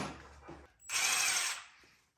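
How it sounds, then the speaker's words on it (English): A quick, close burst from an impact wrench speed-tightening cylinder head bolts on a Porsche 911 engine, with a high whirring rattle lasting under a second, preceded by softer clunks of handling. "This is just speed tightening. I'm not actually torquing anything with my impact wrench, because that would be dumb."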